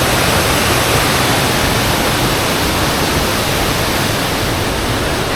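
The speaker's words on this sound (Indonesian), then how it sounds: "Wah, keruh kayak modelnya air terjun semua ya." Loud, steady rushing water roars without a break on Mount Wilis, a dense broadband torrent of muddy water like a waterfall or fast river close by.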